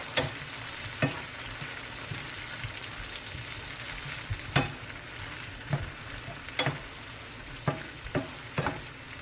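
Shrimp and green plantain fry in a pan with a constant low crackling sizzle, while a handful of sharp utensil taps and scrapes land at irregular intervals.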